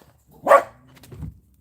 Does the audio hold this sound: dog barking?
yes